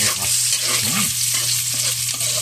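Garlic and onion sizzle steadily in a hot pan as they are sautéed for ginisang upo, with the scrape of stirring running through a continuous, loud frying hiss.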